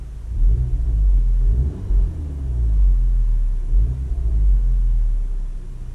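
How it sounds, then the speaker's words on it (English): A car engine fitted with a JB4 tune is revved twice in quick blips, a deep near rumble swelling and falling back to idle, with no talking. "I'm just going to give the car a couple of revs just to show you the responsiveness on the app."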